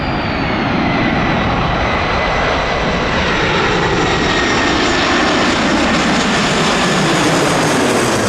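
A jet airliner taking off from runway 21 right at Detroit Metro Airport, giving a loud, steady, close engine roar that fills the whole stretch and slowly shifts in pitch as it powers away.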